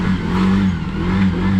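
A tuk-tuk with a flat battery, just push-started, runs with a steady, fairly loud low engine throb and slight revving throughout, with no voices.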